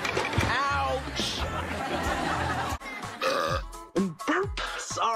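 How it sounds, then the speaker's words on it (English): A single loud, drawn-out human burp on a TV comedy set, surrounded by chatter and laughter from several people. "Burp! Sorry."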